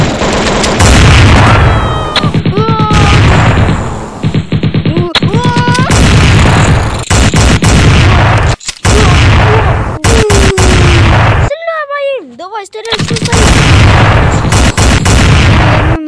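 Gunfire and explosions from the Chicken Gun video game come as loud, dense booms and rapid shots, mixed with whistling tonal sweeps and brief gaps, throughout the clip.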